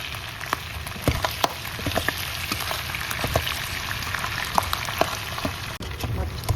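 Ground spices, ginger, garlic and tomato fry in a pan with a continuous sizzle dotted with sharp pops and crackles, close and steady with no talk.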